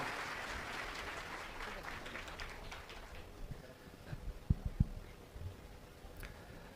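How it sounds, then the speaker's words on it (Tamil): Faint, distant applause fills a hall at a Tamil speech event in Thanjavur as a speaker is welcomed to the stage. The clapping fades out over a few seconds into near quiet with a few soft knocks. "நாகமுத்து பாண்டியனை ஒரு அரங்கம் நிறைந்த கைத்தட்டலோடு பேச வருமாறு பாராட்டி அழைக்கிறேன்."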